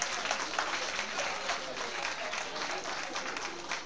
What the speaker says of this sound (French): On va accompagner notre papa avec des tonnerres d'applaudissements,